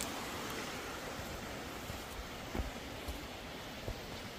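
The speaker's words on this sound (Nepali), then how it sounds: "सानो स्ट्रिम जस्तै रहेछ, एकदम" A small, clear stream flowing outdoors near a pine tree, a steady broadband rush of water heard close and continuous, with faint wind and a few soft knocks.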